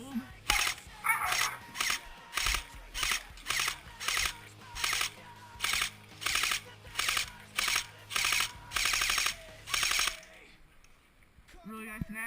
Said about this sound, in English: now I'll shoot at that light